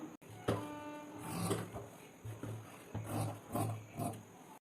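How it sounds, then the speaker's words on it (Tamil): Scissors cut through blouse lining fabric in a series of rhythmic rasping snips, close and moderately quiet, each stroke followed by a brief pause. "இப்போ இந்த மார்க்கையும் நான் இப்போ கட் பண்ணி எடுத்துக்கிறேன்."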